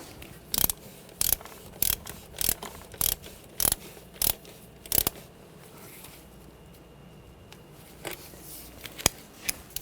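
A ratchet wrench tightens the starter cable nut on a 2009-2013 BMW 328i xDrive 3.0L I6 in eight quick, evenly spaced bursts of clicking, followed by a pause and a few scattered single clicks, all close up.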